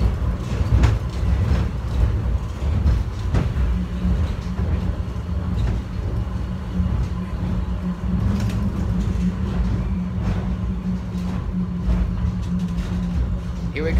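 A subway train rumbles steadily along the tracks with a low droning hum, rattles and occasional clanks throughout.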